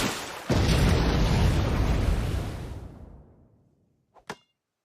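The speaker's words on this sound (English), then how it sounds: "I got missile lock, firing." A cartoon missile launch in an animated comedy: a sudden loud roaring whoosh that holds for about two seconds, then fades away, followed by a couple of small distant pops.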